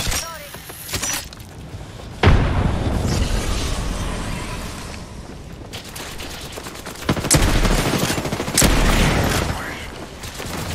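A frag grenade blasts in a multiplayer shooter game, with booming explosions and heavy rumbling bursts amid rapid gunfire, loud and dense, while players talk over the action.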